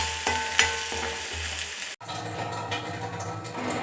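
Ginger garlic paste with green chillies fries for a pork roast masala, a close sizzle with stirring scrapes that cuts out for a moment near the middle, then returns.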